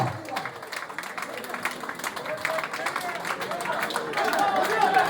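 Crowd applause at a tug-of-war competition as spectators welcome a team onto the field: dense, sustained clapping mixed with crowd hubbub, with scattered sharper claps that grow louder toward the end.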